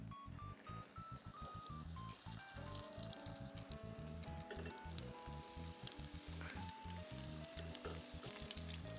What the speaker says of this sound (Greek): ρίχνω λίγο λαδάκι στο τηγάνι και θα ψήσω τα πιτάκια μου